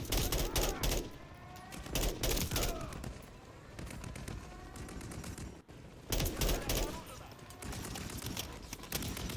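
Bursts of automatic gunfire and rapid shots from the video game Call of Duty Modern Warfare III come in repeated volleys, loud and up close, with quieter stretches between and game voices mixed in.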